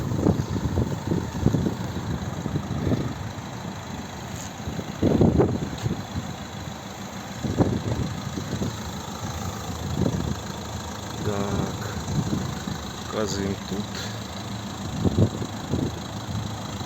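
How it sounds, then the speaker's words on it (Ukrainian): A 2011 Renault Megane III with a 1.5 dCi diesel engine and automatic gearbox idles quietly and evenly, a low steady hum punctuated by occasional louder bursts nearby. "заведений, рівно тихо працює, хороший по запаху вихлоп, нічого не димить"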